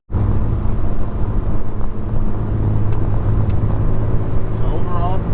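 Interior of a turbocharged Honda Accord driving, with a steady low engine and road rumble running throughout at even loudness; a few brief clicks and faint higher tones surface over the drone, with no talking.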